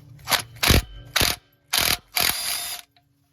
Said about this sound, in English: you're gonna wanna use an impact wrench and hope it's not rusted off and breaks free